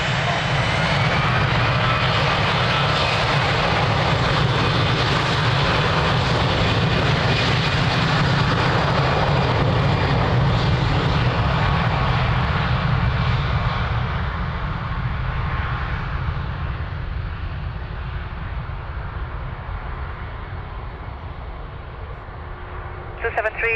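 Jet airliner engines roar steadily on the Lisbon Airport runway, a loud broadband rumble that fades gradually toward the end, with radio-style speech partly audible beneath.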